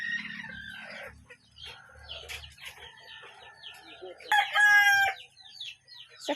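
Several chickens cluck and chatter close by, then a rooster lets out a loud, drawn-out crow midway, with more clucking trailing after.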